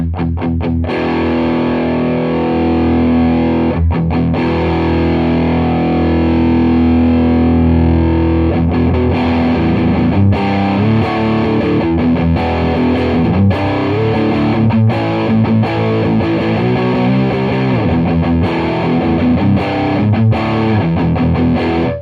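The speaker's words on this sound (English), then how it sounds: "that's actually quite a chunky, heavy distortion" Heavily distorted electric guitar through a Keeley D&M Drive pedal plays sustained, chunky chords and riffs, loud and saturated throughout with no talking.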